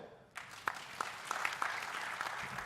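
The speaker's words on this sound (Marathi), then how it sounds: "नागपूर जिल्ह्याकडे आता टाळ्या होऊ द्या" An audience applauding at an event hall, steady clapping from many hands at moderate distance, starting abruptly and holding an even wash with a few louder individual claps.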